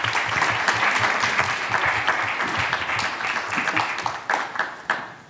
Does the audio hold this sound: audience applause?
yes